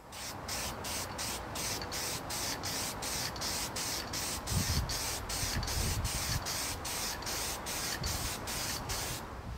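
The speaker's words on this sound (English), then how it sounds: "I need to take some flat black spray paint and spray all of these pieces of mesh" A steady hiss of flat black spray paint from an aerosol can coating mesh pieces, broken into short rhythmic bursts, close and continuous with faint clatter underneath.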